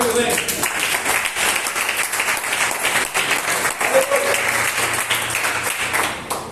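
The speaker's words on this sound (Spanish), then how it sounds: "Dale un aplauso al Señor." A church congregation applauds for the Lord, a steady wash of many hands clapping together for several seconds, with a voice speaking over the clapping.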